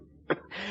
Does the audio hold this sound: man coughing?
yes